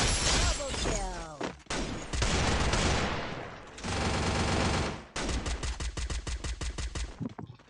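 Gunfire in Counter-Strike comes in loud automatic bursts and rapid volleys. Brief gaps separate the strings of shots, and a final run of evenly spaced shots ends the sequence.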